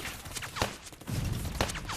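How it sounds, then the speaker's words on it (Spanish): Scattered rifle shots ring out during the marine landing on Iwo Jima: several sharp, separate cracks at irregular intervals over a rough, rumbling background. "Los marines se encuentran con disparos aislados"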